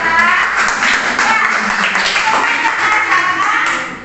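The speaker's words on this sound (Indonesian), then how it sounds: "Oke, tepuk tangan untuk kelompok 3." A classroom group claps for group 3, a dense, continuous burst of hand clapping close by that fades slightly toward the end, with some voices mixed in.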